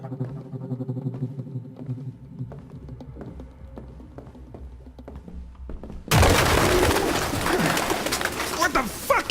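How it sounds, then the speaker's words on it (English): Pigeons coo in a grimy room in Detroit: Become Human, low soft repeated coos under game ambience, then a sudden loud burst of flapping wings as the flock scatters and keeps rustling. "Pigeons."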